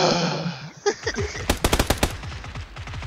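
Video game gunfire: a rapid burst of loud machine-gun shots rattles off in quick succession after a brief musical swell, close and sharp.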